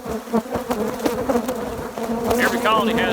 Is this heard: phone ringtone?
no